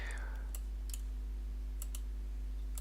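Mouse clicks on a computer while working in the ABAQUS step manager, a few sharp faint clicks in pairs, spaced out against a steady low electrical hum.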